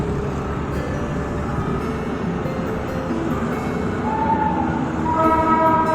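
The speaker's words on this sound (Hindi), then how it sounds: "मालगाड़ी है।" A freight train rolls past up close, a loud steady rumble of wagons on rails, with a higher squealing tone from the wheels creeping in toward the end.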